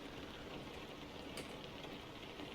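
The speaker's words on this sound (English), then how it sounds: "I wasn't planning on the rain, but I can get my wipers set up" Steady rain falls during a night truck drive through Nebraska in American Truck Simulator, a soft, even hiss that holds without break at low volume.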